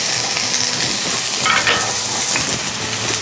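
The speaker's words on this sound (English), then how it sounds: "Very nice sizzling." Food sizzles and crackles loudly in a hot cast iron pan with oil, a continuous close frying hiss with occasional scraping of a utensil.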